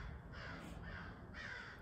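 Crows caw outdoors in a few harsh, repeated calls at moderate distance over a steady low background rumble, with no talking.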